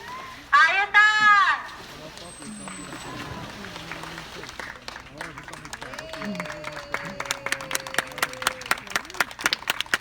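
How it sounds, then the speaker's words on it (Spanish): Applause from a dolphin show audience at an aquarium near Cartagena, Colombia, comes in quick bursts and rising rhythmic clapping, with an announcer speaking and a whistle sounding in between. "Recuerden que los aplausos son muy importantes, son el estímulo de los delfines."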